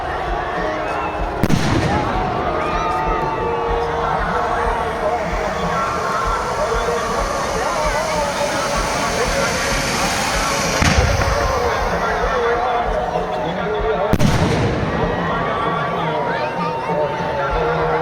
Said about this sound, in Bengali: অসাধারণ একটি আসমান গোলা আপনারা দেখলেন, অসাধারণ একটি আসমান গোলা।